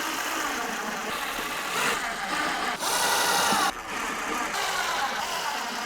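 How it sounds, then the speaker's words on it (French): Power screwdriver driving screws into wood, a continuous whirring motor with rising and falling pitch as each screw bites, close and steady for several seconds. "et je vais pouvoir faire mes vissages"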